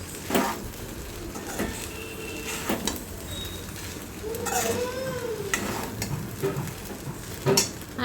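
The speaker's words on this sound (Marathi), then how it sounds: "मीठ घालून घेतल्यावर ते पण मी 2 मिनिटं चमच्याने हलवून घेतलेलं आहे" A spoon stirs salted sago khichdi in a pan, with soft scraping strokes and a few sharper clinks of metal over a gentle, steady sizzle.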